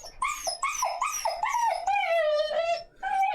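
A dog whines in a series of high, drawn-out whimpers and short yelps, close and fairly loud, with a longer wavering cry in the middle before another sharp yelp.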